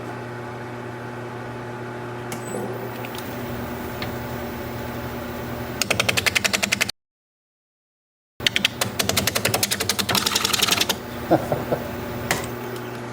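A wood-turning gouge cuts into a knot in a pine bowl on a spinning lathe over a steady motor hum, producing bursts of rapid rattling chatter, with a short silent gap partway through.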